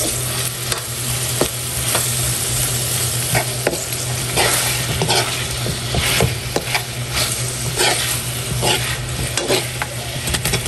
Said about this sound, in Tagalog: Tapos magigisa na tayo ng bawang at sibuyas.